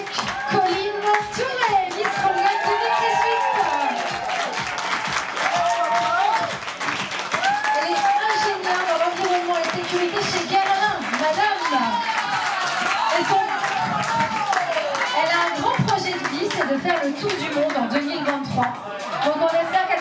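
An audience at a Miss Burgundy committee gala in a château applauds Miss Morgan, sustained clapping running throughout under loud, continuous talk and crowd chatter.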